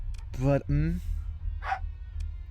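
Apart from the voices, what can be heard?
dogs barking excitedly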